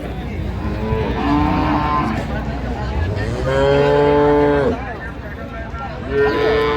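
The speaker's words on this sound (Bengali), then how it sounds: "গাভী বাছুর।" Cows and calves moo loudly at a busy rural cattle market in Raniganj, Dinajpur, several long drawn-out calls overlapping close by, with market chatter and voices in the background.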